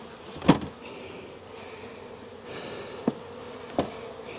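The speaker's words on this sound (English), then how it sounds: "Got plenty of bees upstairs." Honey bees buzzing around an open hive during an inspection, a faint steady hum in the background with a few sharp knocks of handling over it.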